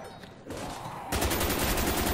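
Black Ops Zombies video game gunfire starts quietly, then breaks into a loud, dense burst of rapid shots partway through that continues to the end, with no voices.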